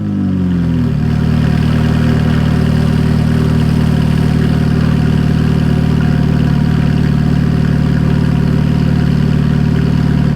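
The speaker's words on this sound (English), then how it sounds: "This is the factory sport exhaust." A Ferrari F430 with the factory sport exhaust, valves open, idling after a brief settling blip at the start, then a loud, steady, deep drone held close and alone with no voices.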